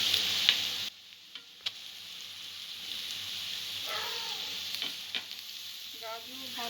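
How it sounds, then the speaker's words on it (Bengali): Carrot, cabbage and capsicum are tipped into onion, garlic and ginger and stir-fried for veg momo filling, giving a steady sizzle with scattered scrapes and clacks of stirring and no talk. "এবারে সবজিগুলো আমি দিয়ে দেব।"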